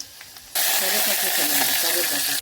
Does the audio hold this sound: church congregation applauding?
no